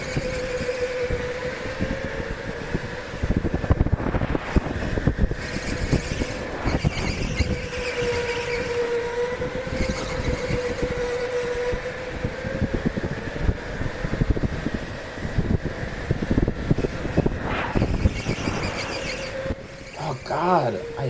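Go-kart racing at the K1 Speed indoor track in Buffalo Grove, Illinois, during a Challenge GP: a steady high kart motor whine with squealing tyres, rising and falling through the laps, while a voice talks over it.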